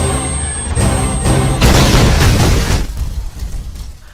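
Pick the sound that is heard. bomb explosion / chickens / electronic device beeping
bomb explosion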